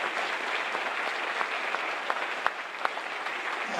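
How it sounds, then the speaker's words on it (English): Applause from the audience at a high school spring band concert, a steady dense patter of many hands clapping that fills the room and holds an even level throughout, with a few sharper individual claps standing out. "big round of applause to everybody"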